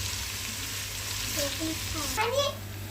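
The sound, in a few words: ginger garlic paste frying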